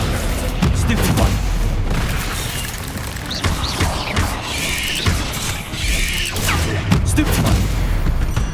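Stupefy spells are cast in Hogwarts Legacy amid a dense, continuous din of magical combat, with loud booms and crashing blasts layered throughout and a voice speaking intermittently.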